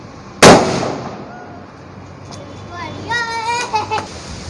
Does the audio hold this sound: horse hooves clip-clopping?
no